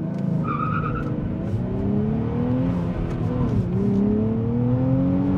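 A 2023 Nissan Z accelerates hard with a loud, rising engine note as the tires squeal continuously, the sound steady and close throughout.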